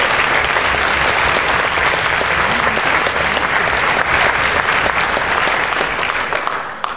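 A big, loud round of applause for an event host at a music educators' gathering. Dense, continuous clapping fills the room for several seconds before starting to thin out at the end.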